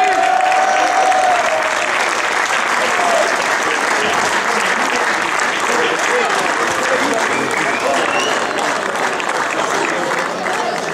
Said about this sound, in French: applaudissements pour cette équipe type U15 de la 5e édition du tournoi Clément Pilon